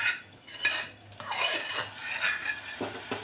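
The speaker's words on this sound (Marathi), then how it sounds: "थोडीशी अशी मिक्स करून घेतली आहे" A spoon stirs and scrapes through soft cooked dal in a metal pot, making close, intermittent clinks and a wet swishing under a faint background hum.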